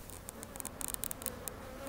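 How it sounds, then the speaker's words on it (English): Swarm of bees buzzing around a soffit hive during a removal in Arizona, a steady faint drone with scattered closer passes of individual bees, with no talking. "Here you can see how the bees are kind of coming out"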